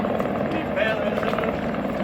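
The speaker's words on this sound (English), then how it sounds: "That helicopter is standing still." A helicopter hovers in place over the El Paso border area, its steady rotor drone continuous and fairly close for about two seconds, with background voices mixed into the noise.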